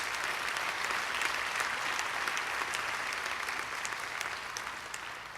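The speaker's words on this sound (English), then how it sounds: "Let's give all the organizers a round of applause." Steady, even applause from a large convocation audience at York College for the organizers, a continuous distant wash of clapping at moderate volume with no talk over it.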